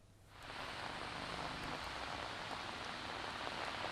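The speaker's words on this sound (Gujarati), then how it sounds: "ધોધમાર ગાજવીજ પવન સાથે વરસાદ વરસી રહ્યો છે" Heavy rain with wind lashes a street in Gandhinagar, Gujarat, during a thunderstorm, rising quickly from near quiet into a dense, continuous roar that holds steady without any voices.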